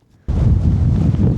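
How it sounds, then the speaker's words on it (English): Strong wind buffets the microphone on the summit of Heron Pike in the Lake District fells, a sudden loud, steady roaring rush that starts after a short quiet moment and continues without letting up. "I'm not going to stay here for long because that wind is freezing as well"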